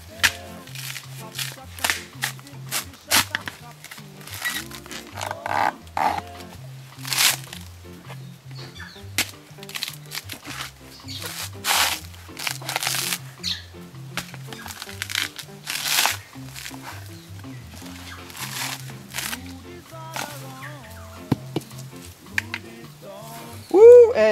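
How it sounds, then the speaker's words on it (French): A coconut is husked by hand for coconut rice in New Caledonia, with scattered close cracking, tearing and thwacking hits coming irregularly in bursts and pauses, with occasional voices. "Bon là mon pote Émile, il va éplucher notre coco pour faire le riz coco."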